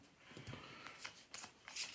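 Playing cards shuffled by hand during a tabletop board game, a few soft riffling and sliding bursts close by with faint room noise between them.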